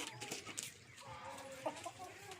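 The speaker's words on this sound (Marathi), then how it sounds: "2च कोंबडे, 2 कोंबडी, 1च कोंबडी" A few backyard chickens, roosters and hens, cluck softly nearby in short scattered calls over a quiet outdoor background.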